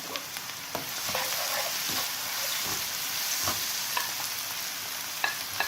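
Chopped garlic and crushed black pepper, added with green chili, sizzle steadily in a hot pan, with soft stirring clicks and scrapes over the constant close frying hiss.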